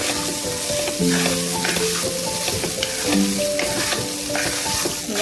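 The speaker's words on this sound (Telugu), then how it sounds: "ఇప్పుడు ముందుగా ఉడికించి పెట్టుకున్న రైస్ని ఇందులో వేసుకుందాం. ఇలా వేసుకున్నాక దీన్ని మొత్తం కలిపేసుకోవాలి." Cooked rice being stirred into cumin-fried jeera rice in a hot pan, steady sizzling with repeated scraping and stirring strokes throughout, close and fairly loud, no voices.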